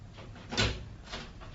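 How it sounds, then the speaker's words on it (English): A penthouse door in an old radio drama swings open with a single soft thud and a brief sweep, followed by a fainter second bump, heard quietly against a hissy background. "the door opened."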